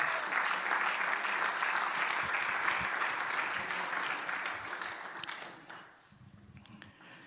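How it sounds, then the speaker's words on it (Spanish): Church congregation applauding during a Spanish-language worship service, a dense sustained burst of many hands clapping that gradually fades out toward the end. "Denle un aplauso al Señor."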